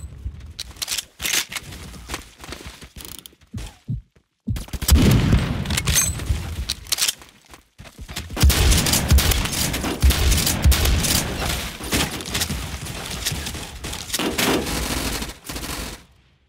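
A Remington 870 fires in the Roblox game Phantom Forces amid dense bursts of loud, rapid gunfire and booms, cutting out briefly at a few moments before resuming.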